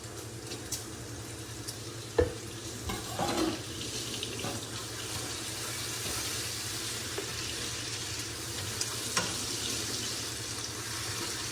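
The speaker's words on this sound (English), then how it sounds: "And the bacon's about half cooked. So I'm going to add my garlic." Half-cooked bacon and garlic sizzling in a pan, a steady quiet fry close by with occasional clinks and stirring scrapes and no talk over it.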